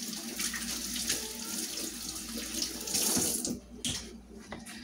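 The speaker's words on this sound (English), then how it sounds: "Okay, then I'm gonna wash my hands again." Tap water runs steadily into a kitchen sink while hands are washed during chicken cooking, a close, continuous rushing splash that thins out and breaks up near the end.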